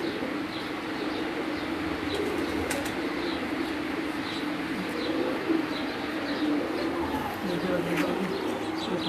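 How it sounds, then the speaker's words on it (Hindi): Pigeons coo softly in a rooftop loft where a female Dilruba pigeon is held, low burbling calls with occasional wing flutters and chirps under steady background noise and some talking. "ये मादा दिलरुबा कबूतरी जी, बहुत ही प्यारा जी।"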